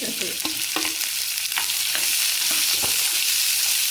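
Washed, finely chopped onions sizzle in a pan for tomato rice, a constant bright hiss broken by regular spatula scrapes and taps against the pan.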